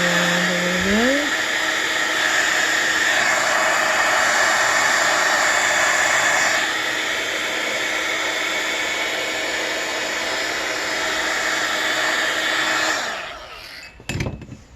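A heat embossing tool blows hot air over watercolor card with a loud, steady whirring roar that holds for about thirteen seconds, then cuts off, followed by a couple of brief clatters.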